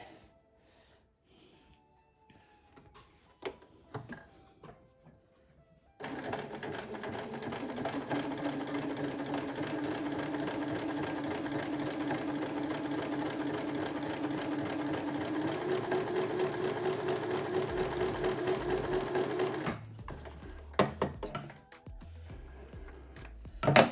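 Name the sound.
sewing machine sewing a decorative stitch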